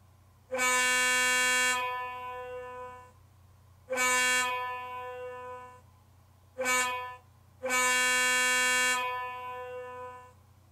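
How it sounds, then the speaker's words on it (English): A model RS2 diesel locomotive plays its sound-file horn in four blasts, long, long, short, long, each a loud, steady chord with gaps of quiet hum between. "So let's go ahead and hear the horn."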